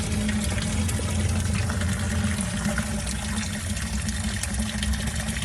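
Fuel pump running steadily on a Mercedes W140 S500, draining old fuel from the tank into a bucket: a continuous low motor hum beneath a hissing, rushing wash of liquid, close and unbroken throughout.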